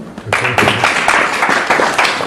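A comedy club audience bursts into loud, dense applause to vote during a stand-up set, a brief close wash of clapping with a few cheers mixed in.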